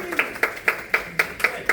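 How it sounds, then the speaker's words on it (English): Participants at a balance workshop give a round of applause: seven or so evenly spaced, crisp hand claps close by, with nothing else in the background. "We're gonna give a round of applause here"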